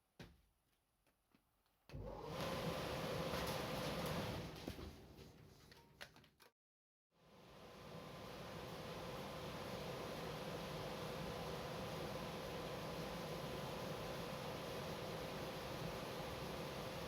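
A large scrapyard fan or blower is test run: a short burst of loud steady roar cuts off, then after a brief silence the machine starts again and holds a constant broadband whoosh to the end, with no speech.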